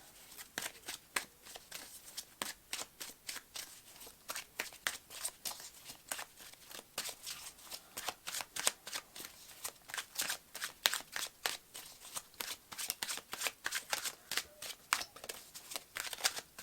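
Tarot cards shuffled steadily, a long run of quick, crisp riffling flicks repeating at an even pace, fairly quiet and close, with no talk over it.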